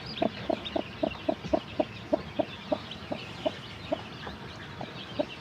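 White village hens cluck with their chicks in a steady series of short, evenly spaced clucks, close and moderately loud against faint background noise.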